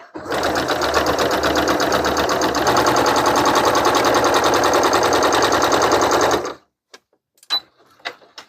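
A sewing machine stay stitching cotton gauze, running in one continuous loud rapid clatter for about six seconds, then stopping, followed by a few faint clicks and handling sounds.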